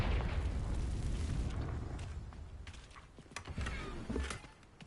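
A Confringo fire-blast spell goes off in a Harry Potter video game, a loud rumbling burst that rolls on with crackling, booming debris and a lower second blast near the end.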